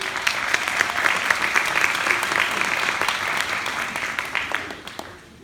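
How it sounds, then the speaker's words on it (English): A crowd at a teen opportunity fair keynote claps steadily in sustained applause for several seconds, dense and even, before it begins to fade out. "Give me some applause."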